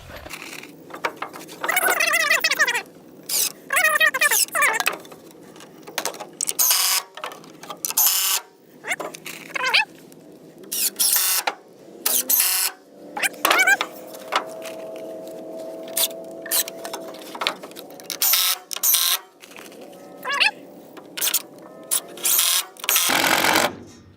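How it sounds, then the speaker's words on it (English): Screws are driven into the scrap lumber legs of a sawhorse with a power drill, intermittent whirring bursts of varying length separated by short pauses, close and loud with some wood creaks between. "then you're also going to put a couple screws or nails into the smaller piece on the bottom"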